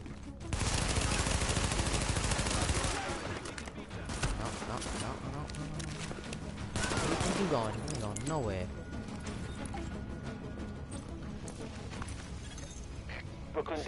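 Repeated gunfire from Tom Clancy's The Division, dense bursts of shots over a busy game soundscape with music and effects, loud near the start then continuing at a steady level.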